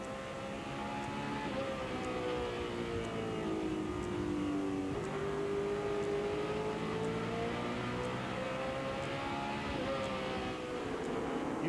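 NASCAR Winston West stock cars racing at Tucson Raceway Park, several engines roaring close together with pitch rising and falling as they circle the track, a steady loud mass of engine noise and no talking.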